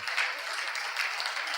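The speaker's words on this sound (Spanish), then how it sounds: "dale un aplauso al Señor" Brief applause in a church service, a dense patter of many clapping hands, moderately loud and even over a short burst, with no clear voices above it.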